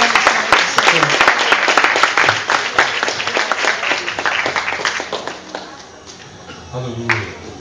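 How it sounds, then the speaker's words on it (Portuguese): A church congregation gives sustained, vigorous applause, many close hands clapping in a loud steady burst that gradually tapers, with a voice briefly heard near the end. "E as palmas longas e glorificam a missão do Senhor"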